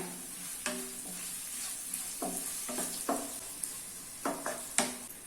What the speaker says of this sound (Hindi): अभी इसमें फाइनली चॉप किए हुए ऑनियन ऐड कर लेना है और मिक्स कर लेना है।